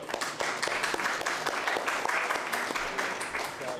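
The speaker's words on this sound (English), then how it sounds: "Round of applause for Rakesh, please." Audience applause at a conference session on AI and player engagement, a steady dense patter of many hands clapping close by, with some talk mixed in.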